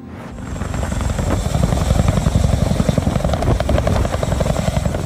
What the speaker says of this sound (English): Instantly recognizable for the twin rotor design and distinctive rotor sound, the CH-47 Chinook is the most successful heavy lift helicopter in service